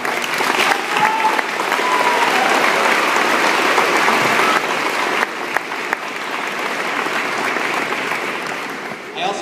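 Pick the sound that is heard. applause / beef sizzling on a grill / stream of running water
applause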